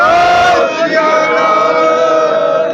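A Sikh gathering shouts the jaikara response in unison, a loud, close, sustained chorus of many voices that holds steady for a few seconds.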